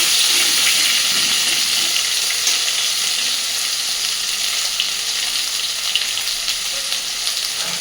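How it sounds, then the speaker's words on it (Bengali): Thick-cut potato pieces fry in hot oil for rui fish kalia, giving a loud, close, continuous sizzle with crackling bubbles that holds steady from start to finish, with no voices. "সুন্দর করে আলুগুলোকে একটু ভেজে নেব।"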